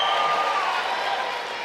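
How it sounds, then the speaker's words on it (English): A crowd cheers and applauds at a UNC anti-crime town hall in Chaguanas, a dense, steady roar of clapping and shouting that stays loud throughout. "Oropuch East also has a cheering crowd"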